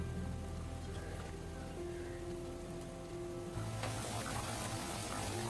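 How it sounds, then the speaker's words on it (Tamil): A steady bubbling and gentle roiling of water at a boil in a pot while cooking chicken biryani, close by and continuous, with a low hum underneath. "தண்ணி ஊற்றினதுக்கப்புறம் நல்லா கொதி வரணும் இந்த மாதிரி"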